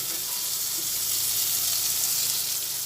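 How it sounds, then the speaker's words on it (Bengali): Tomatoes and ginger frying in a pan, a steady close sizzle with constant hiss throughout, no speech. "এই সময়ের মধ্যে কিছু টমেটো দিয়ে দিচ্ছি টমেটো দেওয়ার পরে একটু ভেজে নিয়ে"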